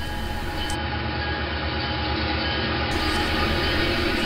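Model railroad locomotives, a Tyco Penn Central dummy unit paired with a powered RS-D12, rolling steadily along track with a continuous motor whine and wheel rumble at close range.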